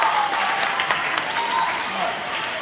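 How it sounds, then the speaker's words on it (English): An audience at a school multiplication bee finals applauds the participating students: a steady wash of clapping with a few sharper claps standing out, and voices mixed in underneath. "Let's give all of these students an applause, round of applause for being part of the first multiplication bee"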